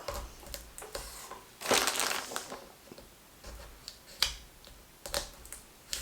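A knife scores X cuts into chestnut shells, giving sharp crunching and cracking sounds close up, one longer crunch followed by scattered short clicks.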